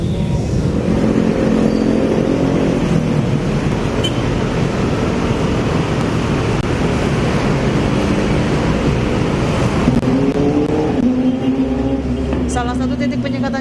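Road traffic rumbles at a Jakarta checkpoint: cars and motorcycles pass in a dense, continuous wash. Engine tones rise near the end, and a reporter's voice runs throughout.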